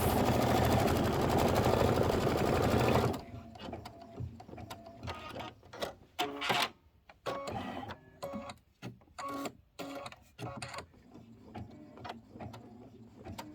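An embroidery machine sews a placement stitch on quilt fabric, a steady loud whirring hum for about three seconds that then stops, followed by quieter scattered clicks and thumps.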